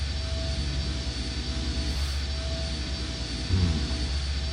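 A machine engine in the horror adventure game I Have No Mouth And I Must Scream gives a steady droning hum with a constant tonal whine, loud and unchanging, with a small low thump near the end.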